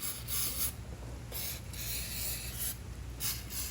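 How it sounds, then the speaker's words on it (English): Caliper cleaner sprays from an aerosol can onto a brake caliper on a Can-Am Ryker, several hissing bursts of varying length, close and fairly quiet. "You're going to spray both sides of the caliper."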